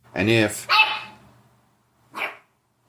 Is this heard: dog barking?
yes